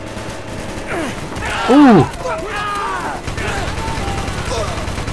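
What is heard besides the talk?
gunfire in the video game Call of Duty: Black Ops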